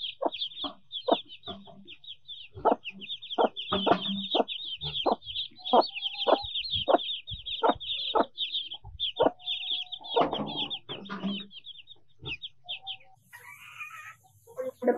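Silky chickens cluck in a rapid, regular series of close, sharp calls, with a short burst of busier squawking near the end and little else around.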